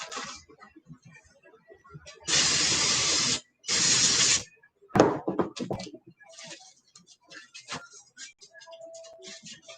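Brake cleaner sprays in two loud, sharp hissing bursts near an engine rotating assembly being put together, followed by scattered clicks, taps and handling noises.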